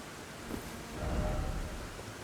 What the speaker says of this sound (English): it is currently raining horribly